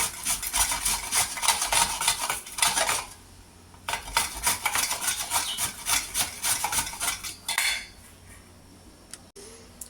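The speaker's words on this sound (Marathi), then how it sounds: "मी हे आपले हे आवळे एक एक करून असे सगळे आवळे मी किसून घेणार आहे" Amla, Indian gooseberries, rasped one by one against a metal hand grater, giving quick rhythmic scraping strokes in bursts with brief pauses, close and fairly loud with no talking.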